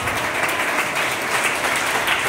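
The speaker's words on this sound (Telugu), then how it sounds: "చప్పట్లు కొట్టి స్తోత్రాలు." A church congregation claps in praise, dense, loud, sustained applause from many hands filling the whole moment.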